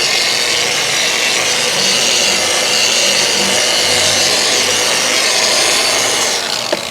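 A paint polisher running at speed 2 spreads Nano Polish and Seal across painted bodywork, a steady close whirring buzz with a broad rubbing hiss that holds constant throughout, with no talk.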